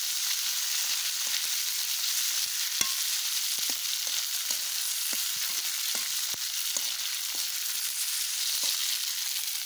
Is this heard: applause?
no